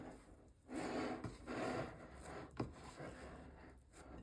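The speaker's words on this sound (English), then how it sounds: "I'm scraping it off the sides and folding it into the center" Flax and whole wheat sourdough dough is scraped off the sides of a bowl in quiet, repeated rubbing strokes, each about half a second long, with a brief knock partway through.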